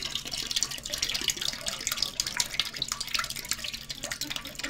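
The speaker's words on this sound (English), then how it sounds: "they're going to have to pour this in the fucking toilet now" Canned aloe drink poured into a toilet, a continuous splashing, gurgling stream of liquid close by with no voices.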